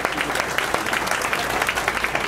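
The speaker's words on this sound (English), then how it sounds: "Give yourself a round of applause for doing so." An audience claps steadily at a State of the City address for North Miami, a dense even patter of many hands filling the short moment.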